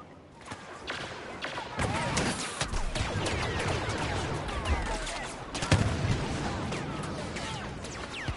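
Dense, chaotic blaster and gunfire in a Star Wars video game battle, with overlapping shots and crashes running steadily throughout at fairly constant loudness, with occasional talk mixed in.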